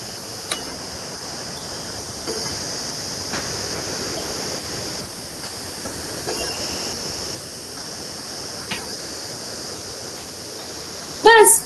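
Tap water pours steadily into a tub, a continuous close rushing hiss that barely changes, with a few faint knocks and a brief louder clatter right at the end.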